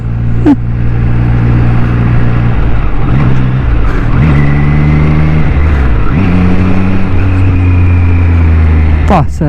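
A Triumph Street Triple RS 765cc motorcycle accelerating on a track, its engine note rising and falling through gear changes in a loud, continuous, close roar that runs steadily from start to finish.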